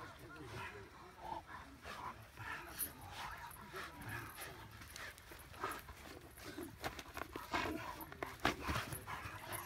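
A dog at close range gives breathy panting and scuffling movement, with occasional louder bursts, while a person talks nearby throughout.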